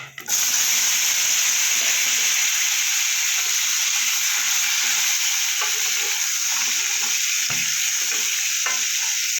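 Cut potatoes fry in oil with whole cumin seeds, giving a loud, steady sizzle and hiss that runs unbroken from start to finish, with only faint stirring clatter and no talking.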